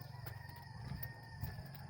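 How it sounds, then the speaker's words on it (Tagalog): A rooster crows faintly in the distance, its call rising and falling over quiet outdoor background noise. "Tugaok sa manok."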